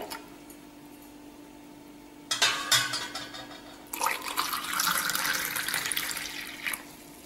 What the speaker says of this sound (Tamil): தேவையான அளவுக்கு தண்ணி சேர்த்துட்டோம்.